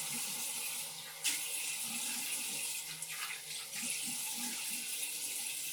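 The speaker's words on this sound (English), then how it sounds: "Cold water right away in the morning." Cold water runs from a bathroom tap in a steady, close rushing stream that fills the whole stretch, with a few small splashes of hands at the basin.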